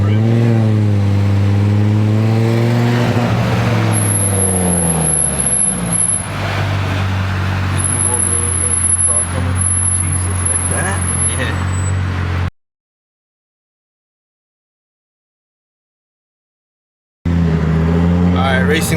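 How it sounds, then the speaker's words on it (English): Engines roar from an RS3-swapped 500hp Golf R and a stock Jeep Trackhawk lined up under a bridge for a quarter-mile dig race, loud and close with rising revs and a steady droning whine, then cut to sudden silence before the noise resumes. "Racing the Golf R versus my brother's Trackhawk quarter mile from a dig."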